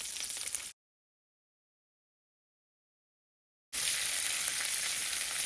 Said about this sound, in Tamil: நான் இதுக்கு இந்த வெங்காயம் வந்து ஒரு முக்கால்வாசி வதங்கிட்டுது.